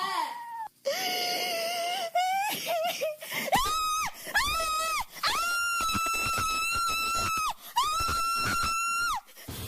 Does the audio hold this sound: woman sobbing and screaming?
yes